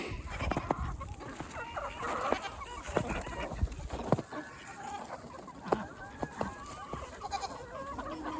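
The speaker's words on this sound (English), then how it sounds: "Big rooster protecting the hen from that mixed rooster there." Backyard flock of chickens, roosters, hens and ducks in a snowy yard, clucking and squawking close by in irregular bursts, with occasional louder cries over a busy chorus.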